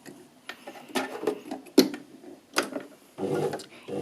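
A sewing machine stitches a seam with a 5/8 seam allowance between rows of gathering on fabric, running in short bursts with brief pauses in between, close and fairly quiet.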